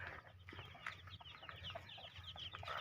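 Chickens raised on a small rural farm cluck and chatter in short bursts close by, with steady low background noise and no talking.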